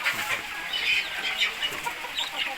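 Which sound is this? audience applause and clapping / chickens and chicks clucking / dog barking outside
chickens and chicks clucking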